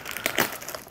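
Plastic packaging around a Bowman U Chrome trading card box is crinkled and torn open by hand, giving a close, continuous rustling crackle with a few louder crunches and no talk.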